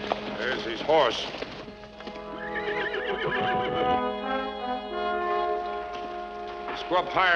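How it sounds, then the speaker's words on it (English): A horse neighs loudly in long, wavering whinnies, with voices and music around it and another short whinny near the end, in a western film. "Horse."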